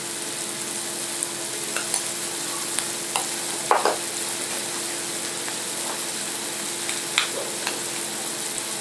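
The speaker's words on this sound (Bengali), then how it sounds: "পেঁয়াজটা সামান্য ভাজা হয়ে গেছে, আমি দিয়ে দিচ্ছি রসুন বাটা" Onion fries in a pan as garlic paste goes in, giving a steady, close sizzle throughout, broken by a few light clinks and scrapes of stirring.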